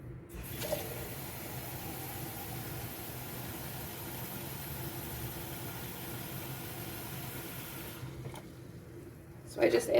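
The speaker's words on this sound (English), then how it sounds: "I just added cold water to it, and I'm just gonna pour it over" Cold rinse water pours steadily over freshly harvested lettuce in a bowl, a continuous close splashing wash that runs for several seconds before tapering off, with a brief clatter near the end.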